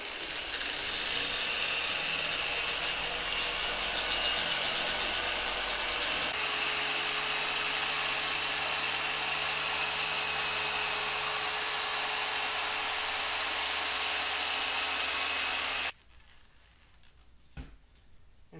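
Harbor Freight dual-action polisher working a car headlight lens: a steady, loud motor drone with a high whine that shifts tone partway through, then cuts off near the end, leaving quiet clicks.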